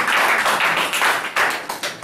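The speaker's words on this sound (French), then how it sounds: "Acclamation pour le Seigneur." Congregation applauding during a French-language church service, a dense, steady wash of many hands clapping that swells and dips in waves, close and loud with no talking over it.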